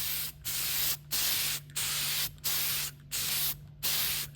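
Paint is sprayed in a light coat from a distance, in about seven short, even bursts of hissing spray with brief gaps between them.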